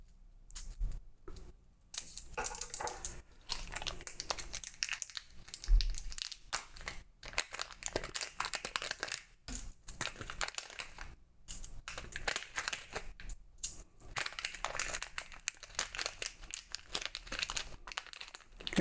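Plastic component bags being cut with scissors and crinkled while parts are sorted for home lab storage, a busy run of close, sharp snips and crackly rustles with brief pauses, no talking.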